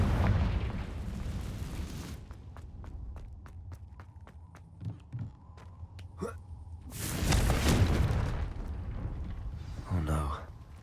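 A Confringo blasting spell goes off in Hogwarts Legacy: a loud, broad, rumbling blast swells near the end, following an earlier burst and a run of sharp, evenly spaced footstep-like clicks.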